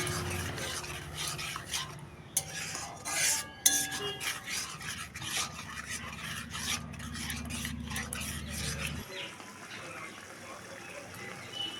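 Pineapple chutney being stirred in a pan: repeated scraping and rasping strokes of a spoon against the pan over a low background hum, with a few sharper knocks, close and moderately loud.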